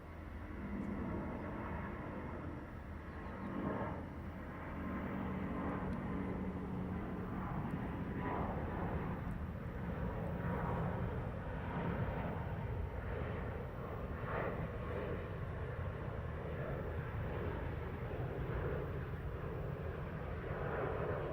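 An airliner roars overhead on departure from Heathrow runway 09R, a broad, sustained jet rumble that stays loud and full for the entire stretch, heard from a spot ringed by trees with no talking.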